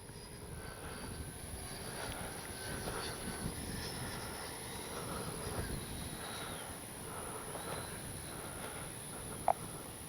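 An E-flite 70mm Viper RC jet flies with a continuous, rushing whine from its ducted fan, holding steady and moderately loud throughout, with a brief sharp click near the end.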